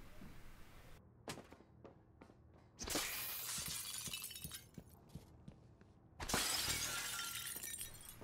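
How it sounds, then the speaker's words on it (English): In the video game Prey, glass shatters in two loud crashing bursts with scattered clinks and thuds of debris between them, with no talk. "So far, the funnest thing to do in this game is to break glass."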